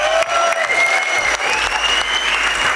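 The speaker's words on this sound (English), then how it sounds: "Let's give them a big round of applause" An audience applauds India's World Cup cricket squad at an evening show, a loud, dense burst of clapping that carries steadily from start to finish with no talking.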